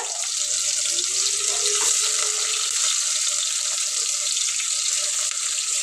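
Tap water running steadily into a kitchen sink while flat beans are washed for a curry, a constant close hiss with faint clinks and no talking.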